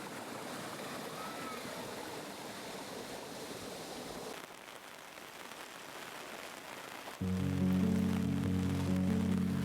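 Winifred Falls, a creek waterfall among Angophora trees, roars as a steady broadband rush of falling water that drops slightly midway, then a loud tonal hum joins over the water.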